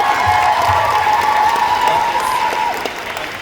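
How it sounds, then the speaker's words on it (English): A convention panel audience at Twin Cities Con 2024 in Minneapolis applauds loudly and steadily, a dense wash of clapping that tapers off near the end. "I take your applause and I bounce it back onto you"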